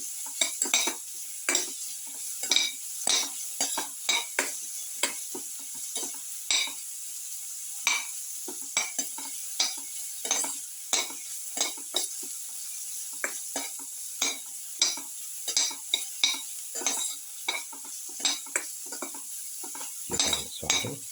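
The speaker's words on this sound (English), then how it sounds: "You can saute." Cumin seeds, carrots and rice being stirred and sautéed in a pan, with a steady soft sizzle under repeated scraping strokes of a utensil against the pan, close and fairly quiet throughout.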